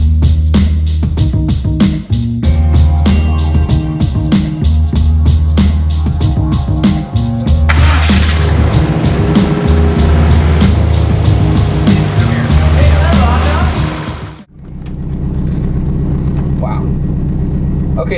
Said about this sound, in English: I already noticed that there's less vibration from the motor at idle in the car